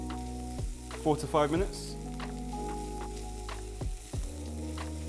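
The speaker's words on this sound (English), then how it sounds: "when it's nicely just started to caramelize and sweat down nicely, you want to add the garlic, ginger, and chili" Onion, garlic, ginger and chili sizzle steadily in a pan while someone speaks over the cooking; the frying stays soft and continuous beneath the voice.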